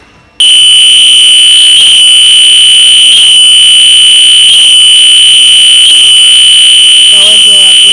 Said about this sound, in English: I get pretty used to these fire alarms